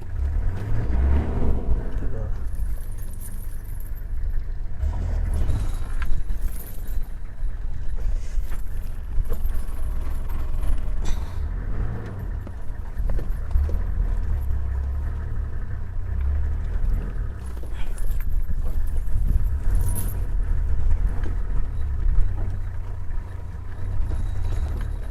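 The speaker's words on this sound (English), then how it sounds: "Just doing a bit of a reverse because this is a bit rocky area. Doing a bit of off-road driving around here." A safari vehicle's engine idles and rumbles as it reverses and creeps off-road over rocky ground, with knocks and rattles, steady and close throughout.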